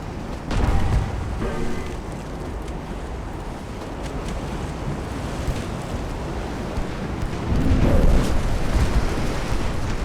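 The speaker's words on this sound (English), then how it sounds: "Two hits with the torpedoes" Torpedo hits land in the naval game Ultimate Admiral: Dreadnoughts as dull, rumbling explosions, two heavier swells rising out of a constant roar of sea and wind, with no voices over them.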